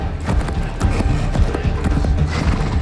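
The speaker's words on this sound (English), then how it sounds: "Yes, Merlin is always riding a horse somewhere." Horse hooves clip-clop in a fast, dense beat, loud and close, joined by a neigh and with voices talking over them.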